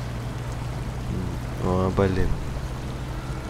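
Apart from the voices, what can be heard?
truck driving through a water puddle in the video game SnowRunner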